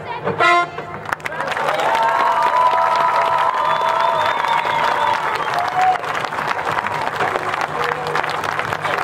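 Sustained applause and cheering from an audience greet a Polish folk dance ensemble from Płock, Masovia, performing in Greece; the broad clapping wash runs steadily throughout with some crowd voices, after a brief announcement at the start.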